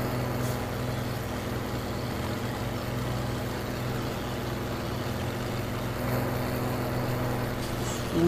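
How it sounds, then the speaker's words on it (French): A heavy tractor engine in a video game drones steadily at a constant pitch, a continuous mechanical hum like an idling tractor, with no talking. "c'est le tracteur qui gueule, c'est même pas le jeu, c'est le tracteur"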